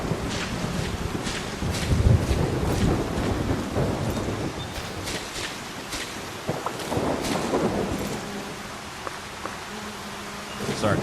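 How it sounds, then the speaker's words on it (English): Thunderstorm in the cozy survival game Solarpunk: rain hisses steadily while low thunder rumbles roll through, with buzzing insects and scattered crackles layered over a dense, continuous wash of weather. "Fully grown plants can be damaged by thunderstorms if they are not sheltered from the direction the wind is coming from."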